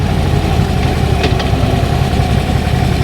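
A Harley motorcycle engine runs steadily during a ride on country roads, a loud, continuous low rumble close up with no breaks.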